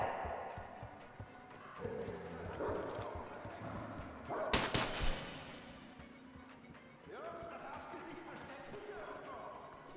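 Dogs barking in the post-apocalyptic game Metro Exodus, with scattered yips and barks amid game ambience and a loud burst near the middle, while someone talks over it.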